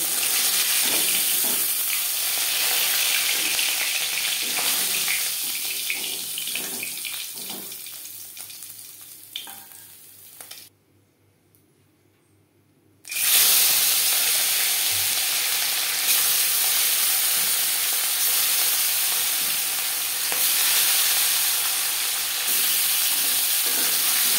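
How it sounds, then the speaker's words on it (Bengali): Fish frying in oil in a pan, a loud, steady sizzle and hiss that cuts out to near silence for a couple of seconds, then returns just as strongly. "পরের মাছ একইভাবে ভেজে নেব"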